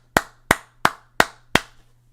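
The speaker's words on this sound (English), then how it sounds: "Clap it up." Five crisp, close hand claps from one person at a slow, even pace over a low steady hum.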